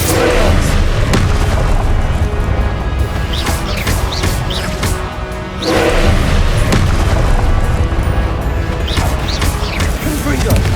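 Repeated Confringo fire-spell explosions in the Hogwarts Legacy video game during Percival Rackham's first trial, loud dense booms and crashes in a near-continuous barrage with a brief lull midway.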